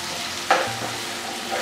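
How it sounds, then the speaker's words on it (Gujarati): Half a cup of chopped onions fry with garlic and ginger in a pan for a green onion and sev curry. The sizzle is steady, and a short scrape of stirring cuts in early. "તો હવે હું એડ કરું છું કટ કરેલા કાંદા"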